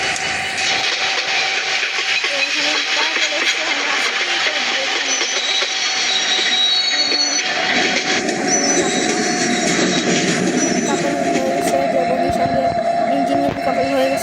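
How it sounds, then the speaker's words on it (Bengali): In an Android train simulator game set in Bangladesh, a locomotive slowly reverses toward its coaches. A loud rolling rumble with wheel squeal and clacking runs throughout, and a voice talks over it. "তো আমাদের ইঞ্জিন আস্তে আস্তে পিছনের দিকে যাচ্ছে, বগির কাছে"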